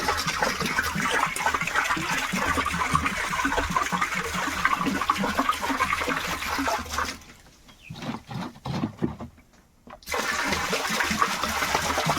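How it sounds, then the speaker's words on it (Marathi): A litre of cow urine pours steadily from a container for jeevamrut, a continuous liquid splashing and gushing that stops briefly near the end, leaving quieter trickles, then resumes at full strength. "सुरुवातीला आपण गोमूत्र टाकूया हे लिटर गोमूत्र आहे"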